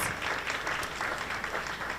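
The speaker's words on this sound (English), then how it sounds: "Let's give one more round of applause for New York Mayor Eric Adams." Applause from an audience at a Jamaica 60 launch reception in New York, a steady, dense wash of clapping that holds for the whole two seconds at moderate distance.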